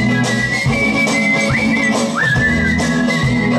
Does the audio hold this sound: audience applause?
no